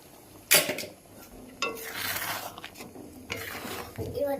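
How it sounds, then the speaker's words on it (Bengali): A spoon stirs a milk mixture in a pot for chushi pitha, a rice dumpling sweet, giving a few sharp scrapes and clinks against the pot spaced over several quiet seconds. "এটা ঢেলে সুন্দর করে মিক্স করে দিই।"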